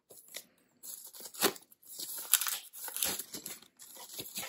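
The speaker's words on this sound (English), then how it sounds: "Now let me peel this off." Protective plastic film peeled off an Xbox Series S console, heard as close crinkling and tearing bursts with brief pauses between pulls.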